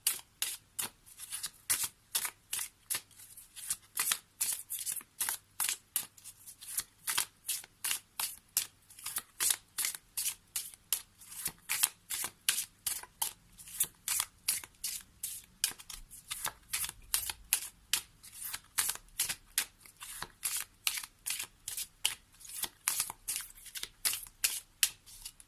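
Oracle cards are shuffled for a reading in a long, steady run of crisp riffling flicks repeating at an even rhythm, close and alone without any talk.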